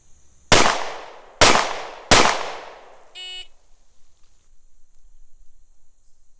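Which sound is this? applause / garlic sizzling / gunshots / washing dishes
gunshots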